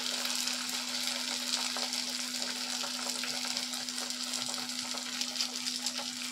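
A Maggi noodle omelette sizzles steadily in a pan over low heat, a constant close hiss of frying without pause or talk.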